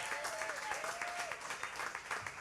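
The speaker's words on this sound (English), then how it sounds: "Give him a round of applause, please." An audience at a retirement function applauds in a steady, soft wash of many hands. The sound is fairly distant and subdued, with a faint whistle-like tone briefly rising above it.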